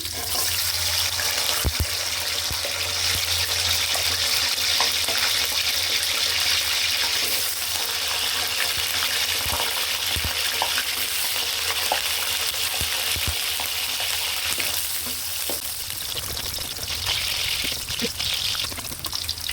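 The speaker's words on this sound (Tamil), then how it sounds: "எண்ணெய் கொஞ்சம் நல்லா சூடாகினோடனே அது பிறகு நாங்கள் இந்த வெள்ளைப்பூடை போட்டுருவோம்" Garlic frying in about 150 ml of hot oil for tomato thokku, a steady, dense, close sizzle that runs unbroken and alone, with a few faint clinks over it.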